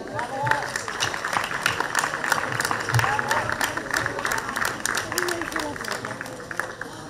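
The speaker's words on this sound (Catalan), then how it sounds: "I també un fort aplaudiment." A crowd at the Ascó bonfire festival applauds steadily, dense clapping sustained throughout at moderate distance, with voices mixed in.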